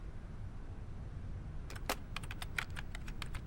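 Fingers tap out a short comment on a computer keyboard, starting after a stretch of quiet room hum with a quick burst of crisp, close keystrokes in an uneven rhythm.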